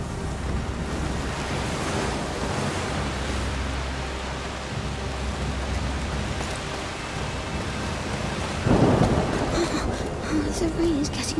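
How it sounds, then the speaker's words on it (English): Steady rain hisses continuously with a low rumble of thunder underneath in the video game A Plague Tale: Requiem, and a sharper burst of noise near the end. "The rain is getting worse."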